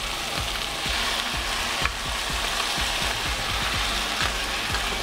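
Blended green chile salsa poured into a hot frying pan for bisteks en salsa verde sizzles loudly and steadily, a dense continuous hiss with faint stirring scrapes underneath.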